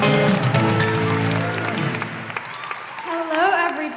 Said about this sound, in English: applaud loudly, cheer loudly, make all of your patriarchy-smashing woohooing noises for the incredible Ankita